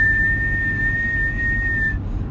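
A failing CVT transmission in a Kia Soul gives off a steady, thin high-pitched whistle that holds for about two seconds over a low engine rumble, then cuts off.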